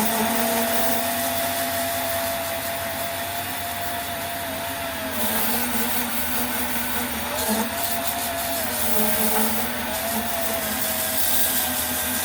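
A cordless power tool works on a YZ250 two-stroke cylinder head, giving a steady, loud, whining drone with a constant pitch that dips briefly as the cut loads it, close by and uninterrupted.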